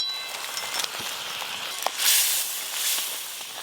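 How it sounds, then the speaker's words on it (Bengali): Prawn curry gravy boiling in a pan for a village-style Bengali prawn bhuna, a soft steady bubbling hiss with crackles and two louder surges near the end, heard close and alone. "গ্রেভি একদম টকবকে হয়ে ফুটা শুরু হয়ে গেছে।"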